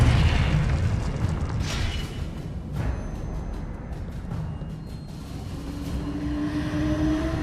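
A Confringo blasting spell explodes in the Hogwarts Legacy game, a loud, deep rumbling boom with crackling debris that rolls on and fades slowly beneath a sustained low roar.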